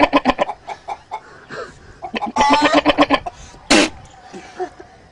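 A voice imitates a goat bleating with a quick run of short, nasal bleats, then a longer strained cry and a brief sharp burst, all close and fairly loud.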